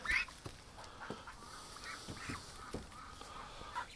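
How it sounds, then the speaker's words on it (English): A small group of injured ducks gives faint, scattered quacks and calls against a quiet background. "Oh, what a crew of injured ducks."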